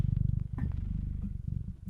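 A cat purrs steadily and close, a continuous low rhythmic rumble that fills the whole short stretch without pause.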